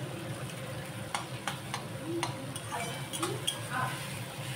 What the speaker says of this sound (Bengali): দেখুন পেঁয়াজ ভাজা হচ্ছে